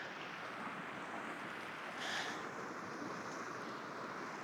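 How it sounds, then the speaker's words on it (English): Constant blustery wind roaring across the microphone on a Wyoming Bighorn trip, a steady low rumble with a brief stronger gust midway, no voices. "It's really windy today."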